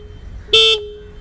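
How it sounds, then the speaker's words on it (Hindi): A single short beep of a scooter horn, bright and close, lasting about a quarter second before cutting off. "ये है हॉर्न"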